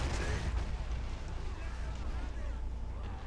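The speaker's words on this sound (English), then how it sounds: "There goes an explosion" Explosion in the WWII strategy game Men of War during a D-Day battle, a dense low boom and rumble with crackling gunfire, running under continuous commentary.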